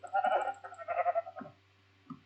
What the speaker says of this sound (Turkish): Aha bir tane daha koyun.